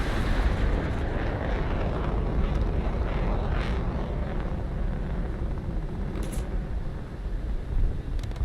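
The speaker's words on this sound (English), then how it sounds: "We got lots of aircraft coming in. 262s, F-84s." Me 262 and F-84 jet aircraft flying in during a video game battle, a loud broad roaring rush of engine noise that swells and holds steady, no talk.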